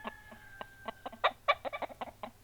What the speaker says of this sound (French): des poules et des coqs,